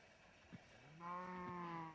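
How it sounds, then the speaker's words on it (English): A Minecraft cow lets out a low, drawn-out moo, fairly quiet and alone, preceded by a faint short grunt. "Oh, there's a cow, and I don't need milk."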